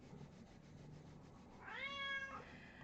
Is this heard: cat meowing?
yes